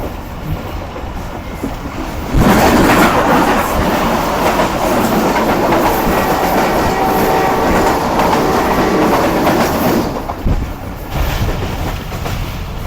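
The 28 Down Shalimar Express, running between Lahore and Karachi, roars past at Adam Sahaba station. It builds suddenly into a loud, continuous rush of wheels and clatter, then drops back to a softer rumble near the end.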